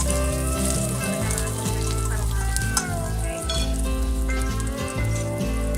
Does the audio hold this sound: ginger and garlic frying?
yes